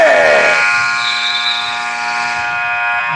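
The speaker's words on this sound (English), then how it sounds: "Dennis Dweck puts it up at the buzzer, puts it in, 42-27" A loud, sustained electronic buzzer marking the end of a half in a basketball video game, a harsh steady tone that holds for about three seconds with faint crowd noise beneath.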